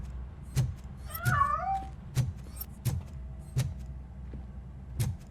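A cat meows in the video game Robocop Rogue City, a couple of close, drawn-out wavering meows among a series of sharp thuds and knocks, with no talking.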